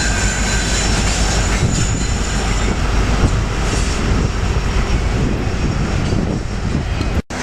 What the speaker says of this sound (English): Now there's an engine right in the middle of the train.